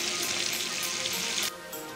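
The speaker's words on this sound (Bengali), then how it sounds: "মাছের মাথা আর লেজাটা ভেজে নিচ্ছে" Fish head and tail frying in hot oil, a continuous close hiss and sizzle that quiets a little partway through.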